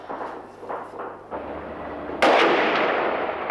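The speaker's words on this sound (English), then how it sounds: "Morning and afternoon, the city echoed to the sound of gunfire as the army clashed with remnants of the security forces" Gunfire in a city during street fighting between the army and remnants of security forces, heard as a rapid series of sharp cracks that end in a louder burst with a long echoing tail.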